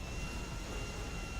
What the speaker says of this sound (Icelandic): Ég kann ekki að stjórna flugvél.